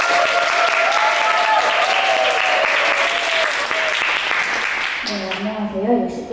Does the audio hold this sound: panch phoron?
no